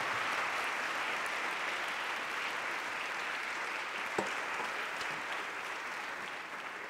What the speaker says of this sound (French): Je crois qu'on peut applaudir nos trois intervenants.